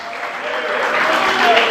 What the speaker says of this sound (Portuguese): Você pode exaltar e aplaudir o Senhor,